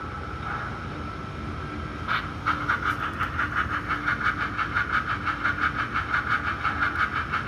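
Westside Model Co GS-4 model steam locomotive, Southern Pacific 4450, starts up after a click and runs with a steady rhythmic chuffing and hissing that repeats quickly and evenly, close by and alone.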